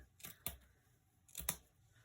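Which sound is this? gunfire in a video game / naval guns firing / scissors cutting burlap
scissors cutting burlap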